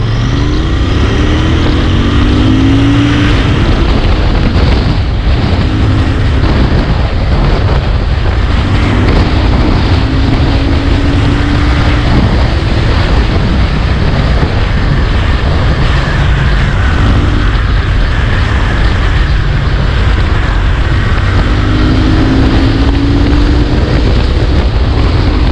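A Royal Enfield Continental GT 650 motorcycle accelerates hard in first gear, its engine note climbing in repeated rising sweeps beneath constant heavy wind rush from riding.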